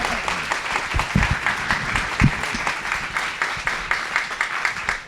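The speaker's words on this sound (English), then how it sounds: "How about just a quick round of applause for our panelists and for Cody" Quick round of applause for panelists at a business alumni breakfast, a room full of steady, dense clapping with a few louder close claps, no talking.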